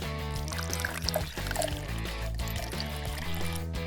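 Cooking oil pours steadily into a small pan in a miniature kitchen, a soft continuous trickle and splash over background music, with no talking.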